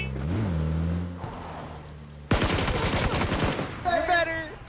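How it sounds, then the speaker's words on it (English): Video game gunfire in PUBG aimed at a car's tires, a rapid burst of sharp automatic shots after a droning car engine, followed by a brief high whine, loud and close. "he's shooting my tires"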